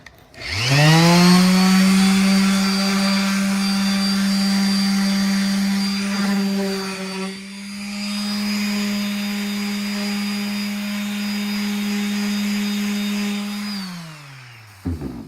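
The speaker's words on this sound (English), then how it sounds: "when I hit this with the sander, it really doesn't do much" A power sander works over a finished kitchen cabinet surface, its motor spinning up to a steady high whine with strong harmonics, holding loud and even, dipping briefly midway, then winding down at the end; no voices.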